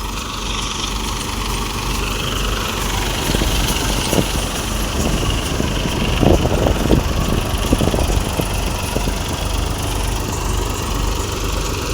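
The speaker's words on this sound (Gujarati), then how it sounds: "245 ટ્રેક્ટર છે" A 245 tractor's engine runs steadily on a farm plot, a continuous mid-pitched drone holding at an even level throughout, with no one speaking.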